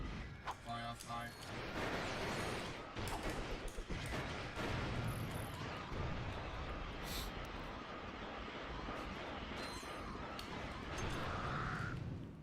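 Gunfire at Tyrannos crossing a bridge in Ratchet & Clank 3: continuous blasting and weapon fire with crashes and mechanical clatter, moderately loud, while a voice speaks German over the opening and ending.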